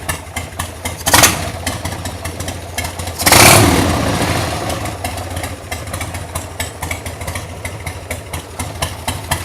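A cold 1998 Harley-Davidson XL1200C motorcycle engine idles steadily with a low, even rumble, with two brief louder bursts early on before settling back into the idle.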